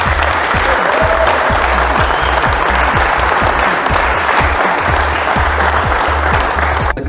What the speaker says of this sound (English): Give yourself a huge hand of applause